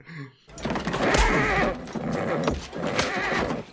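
A horse neighs loudly and close, a long rough whinny that rises and falls over a few seconds.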